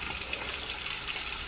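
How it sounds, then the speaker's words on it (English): Tap water gushes steadily from newly turned-on spigots that had been without running water, a continuous close hiss with bubbly sputtering and no talk. "But now, we actually have running water,"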